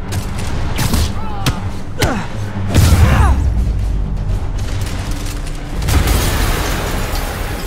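An explosion in the Spider-Man Remastered video game: several loud booming blasts and bursts with rumbling debris rise over a dense game soundscape, with a heavy hit near the start and another swell toward the end.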